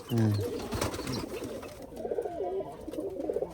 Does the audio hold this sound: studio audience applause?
no